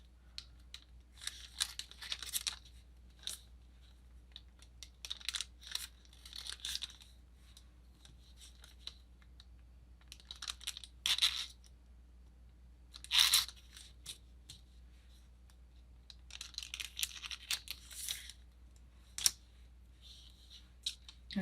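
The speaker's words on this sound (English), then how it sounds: "I'm gonna use my clay blade and I'm just gonna cut it into a square." A clay blade slices through rolled-out polymer clay in repeated short bursts of crisp crunching and scraping, close and quiet, separated by pauses over a faint steady hum.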